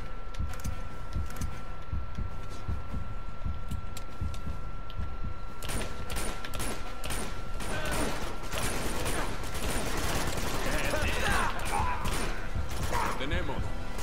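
Gunfire erupts in the Uncharted 2: Among Thieves video game in Nepal, a quiet stretch giving way to a rapid burst of shots and clattering impacts mixed with game sounds.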